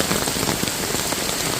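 Rain pouring down near a flooded canal-side path, a dense, even patter of drops striking the ground close by for a brief moment, with no voices.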